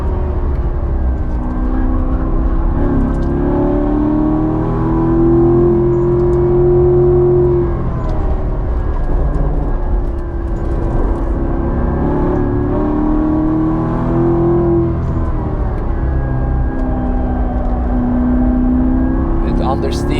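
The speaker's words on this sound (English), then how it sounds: "let you enjoy the rumble of the engine" A C7 Corvette on the Nürburgring with factory alignment produces a continuous deep engine rumble from inside the car, rising and falling in pitch as the revs climb and ease through corners, loud and steady throughout.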